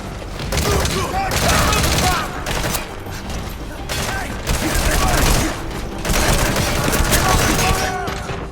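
Gunfire in Metal Gear Solid V, loud dense volleys of shots and impacts in sustained waves with brief dips, mixed with game sound effects.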